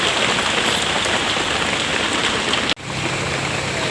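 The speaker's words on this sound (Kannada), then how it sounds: "ಎಲ್ಲಿಗೋದ್ರೂ ಮಳೆ ಬಿಡ್ತಾನೇ ಇಲ್ಲ" Steady rain pours down close by, a dense even hiss of drops hitting surfaces throughout, broken only by a brief dropout near the end.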